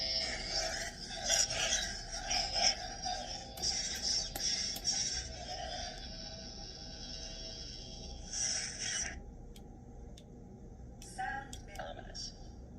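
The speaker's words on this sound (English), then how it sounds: "So an Ahsoka inspired sound font" Crackling, buzzing lightsaber hum from an Ahsoka-inspired sound font on a white blade, with sharp swings and clashes, loud bursts that fade into quieter stretches before a final flicker.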